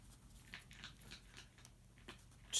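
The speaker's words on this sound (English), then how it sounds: "Lupe is chewing something up under my desk if you're wondering what the crunching sound is." A pet chewing and crunching something under a desk, soft irregular crunches and bites, close but faint, with a sharper noise at the very end.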